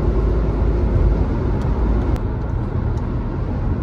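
A car rolls through heavy road traffic on a road trip, heard from inside. A constant low engine and tyre rumble with broadband road noise stays loud and steady throughout, with no talking.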